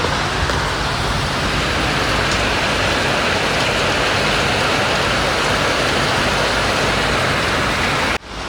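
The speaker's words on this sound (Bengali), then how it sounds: "মুষলধারে বৃষ্টি হচ্ছে।" Heavy monsoon downpour drumming on a rooftop during a pre-monsoon storm, a dense, loud, steady roar of rain that continues unbroken for about eight seconds before cutting off abruptly.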